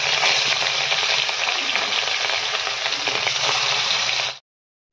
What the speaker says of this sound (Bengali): এখন হচ্ছে মাছটা প্রথমে ভেজে নেব।